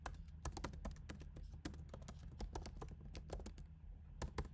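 Computer keyboard typing code: quick, close clusters of clicky keystrokes in an uneven, bursty rhythm, with no talk over them.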